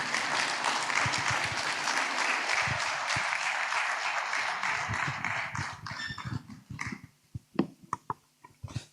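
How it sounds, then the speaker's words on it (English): An audience claps for speaker Babajide Ogundipe at a Nigerian Bar Association anti-money-laundering workshop. The dense, steady applause lasts about five seconds, then thins into scattered claps and a few murmuring voices. "Please, another round of applause for Mr. Babajide Ogundipe"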